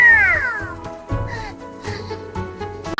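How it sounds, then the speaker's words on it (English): A cartoon cat in a children's alphabet song gives one clear, falling meow up close, followed by quieter, softer mews over light background music. "C for cat"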